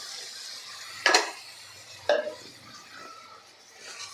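A spoon scrapes and clinks against a pan twice as ground masala paste is stirred and sautéed in oil, with a soft sizzle underneath between the distinct knocks.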